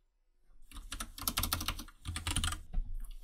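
Rapid clicky keystrokes rattle from a mechanical computer keyboard, a close dense burst of typing that pauses briefly and then resumes.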